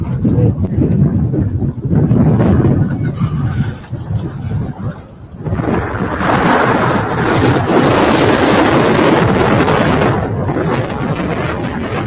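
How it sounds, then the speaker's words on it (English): Strong wind roars across the open Capitol lawn, a loud continuous broadband rush that surges louder in the second half, buffeting the microphone with low rumbling gusts. "I don't know if you guys can hear all that wind"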